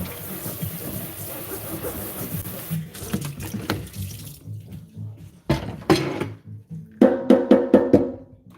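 Red drum fillets are rinsed under a running kitchen tap, with a steady stream of water for several seconds, then splashes, drips and choppy bursts of water as the fish is handled, all close by.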